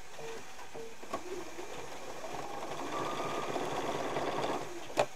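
Sewing machine stitching straight across fabric pieces, a close, steady whirring run of rapid stitches after a few short starts, ending with a sharp click.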